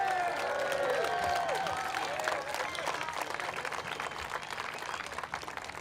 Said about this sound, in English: Let's give Mr. Harper another round of applause.